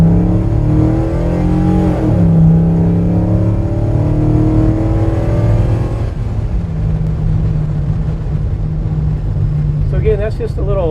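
The 5.3 LS V8 truck engine in a swapped Chevrolet C10 revs loudly up close, with a rising throttle blip and a steady rumbling idle, while someone talks over it.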